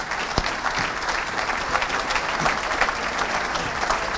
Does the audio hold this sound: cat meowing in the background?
no